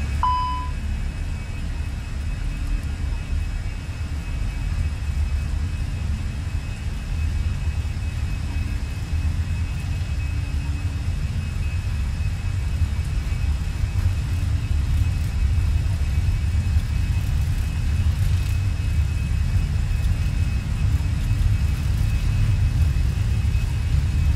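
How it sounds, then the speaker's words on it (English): An Airbus A320 takes off in Microsoft Flight Simulator, its jet engines spooling up into a steady, deep rumble that holds at an even loudness throughout, with faint tonal beeps near the start. "And there's our takeoff."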